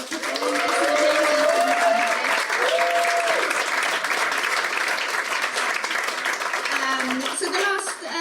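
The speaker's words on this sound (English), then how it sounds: "Can I get a big round of applause for everyone that performed?" A live audience at a storytelling night claps and applauds for the performers, a dense, steady wash of clapping with voices talking over it throughout.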